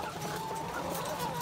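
Chickens cluck on a laying-hen farm, a dense, continuous chorus of many birds heard close up throughout.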